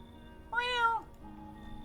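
A single cat meow in the video game No, I'm not a Human, clear and close, lasting about half a second over a steady low game hum with no talk.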